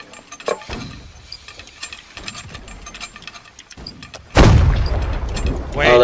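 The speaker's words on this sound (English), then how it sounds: "You can try to fire the cannon." Ship cannon in the naval combat game Holdfast fires with a single heavy boom that rolls on for a moment after earlier clicks and mechanical clatter, with players talking.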